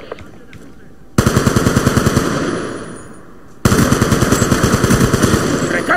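Automatic gunfire from a machine gun in the Black Ops 2 video game, two loud sustained rapid bursts separated by a short lull, with faint talk beneath.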